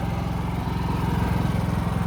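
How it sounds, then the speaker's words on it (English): A steady, loud mechanical engine drone chugs with a constant low pulsing rhythm, close by and uninterrupted. "Our generator's running."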